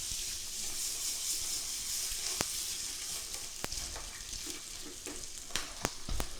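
A chicken breast sizzles in a nonstick pan with a continuous frying hiss. Sharp pops and crackles come through at scattered moments.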